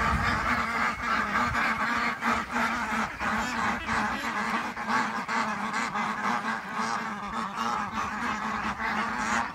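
A farm flock of Indian Runner ducks, Blanc de l'Allier ducks and geese calling together, with continuous overlapping honks and quacks, loud and close, no voices.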